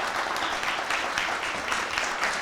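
A conference audience claps steadily after a talk at an innovation event, a dense, even patter of many hands at moderate volume with no voices over it.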